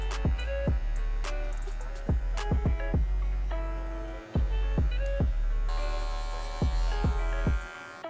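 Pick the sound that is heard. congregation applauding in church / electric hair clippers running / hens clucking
electric hair clippers running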